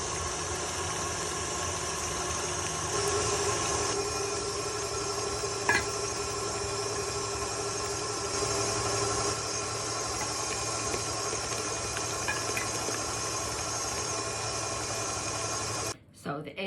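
An electric mixer beating butter and eggs for a strawberry ricotta cake hums steadily and continuously throughout, a constant motor drone that cuts out briefly near the end.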